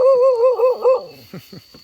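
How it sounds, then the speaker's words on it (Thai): A dog near a chained bull elephant in musth lets out a drawn-out whining yelp, then a few short sharp barks, close by and fairly loud. "ดูมันเห่าเลย"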